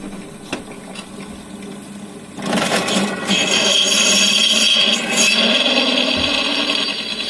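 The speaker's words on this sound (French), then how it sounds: "on utilise la perceuse à colonne pour percer de l'inox avec des forêts inox" A pillar drill bores into stainless steel with a stainless bit and cutting oil, starting as a quiet hum and rising into a loud, steady grinding whine, heard up close with no talking.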